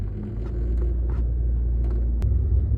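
Low steady rumble of a manual-transmission car engine pulling away in first gear as the clutch is let out and gas is added, a continuous close drone with a slight rise near the end.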